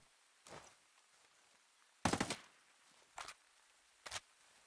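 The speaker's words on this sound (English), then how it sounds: "They said they fixed the bolt carriers for various assault rifles." Short bursts of assault rifle fire in a video game, testing weapons with fixed bolt carriers: a brief burst, then a louder rattling volley and two more short bursts, with quiet gaps between.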